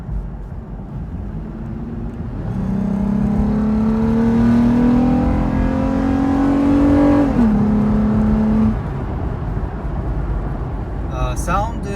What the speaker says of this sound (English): So I have installed the TRD oiled air filter, and this is the sound now.